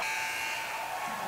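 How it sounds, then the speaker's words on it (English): A steady electronic buzzer drones at a women's college basketball game between Villanova and Seton Hall, the shot clock sounding as a continuous tone over crowd noise in the arena. "Firing the three is Jaycott beating the buzzer"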